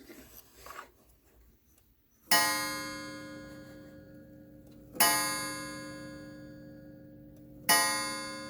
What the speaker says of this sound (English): the movement is out of the New Haven Missions clock